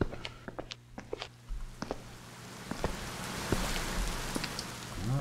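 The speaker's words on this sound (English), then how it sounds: "Right, it is raining." Rain falls in the video game Dark Fracture, a soft, steady patter with scattered sharper drops and taps, some louder and closer. Nobody speaks over it.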